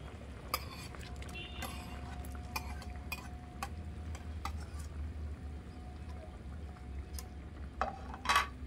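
Tomatoes being stirred into a hilsa fish curry in a pan, with scattered utensil scrapes and clinks over a steady low cooking rumble; a voice speaks in places.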